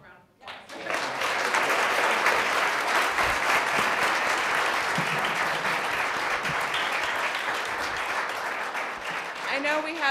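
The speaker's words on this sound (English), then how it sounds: "let's give the panel a round of applause." A crowd claps steadily and loudly for about ten seconds at a travel industry conference panel, a dense sustained round of applause that tapers slightly toward the end.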